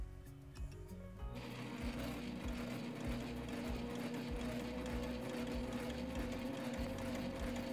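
A sewing machine runs steadily through fabric with a continuous mechanical hum and rapid needle chatter, starting after a brief quieter moment and staying loud and close throughout.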